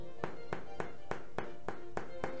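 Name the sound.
knocking on the underside of a baked homemade bread loaf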